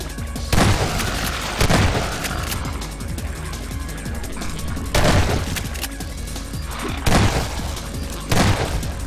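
A shotgun fires in the first-person shooter SMOD: Tactical and Zombie Survival. Heavy booming blasts come about five times at irregular intervals over continuous loud game background noise.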